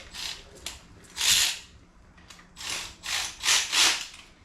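Ratchet tightening a fastener, a few short bursts of quick clicking close by, fairly quiet, with pauses between strokes and no talk.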